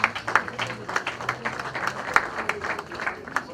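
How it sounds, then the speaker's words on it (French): A crowd applauds, many hands clapping in a dense, continuous patter that holds steady throughout at moderate loudness. "Je vous prie de l'applaudir."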